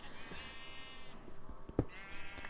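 Sheep in Minecraft bleat in a few wavering calls spaced across the moment, with small clicks and taps of game action between them, no speech.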